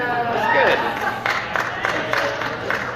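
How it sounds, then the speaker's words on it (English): A studio audience claps briefly at a drag-themed comedy podcast, a sparse patter of hands heard under crowd murmur and chatter. "I deserve that clap."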